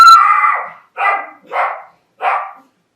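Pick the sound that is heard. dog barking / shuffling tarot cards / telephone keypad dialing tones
dog barking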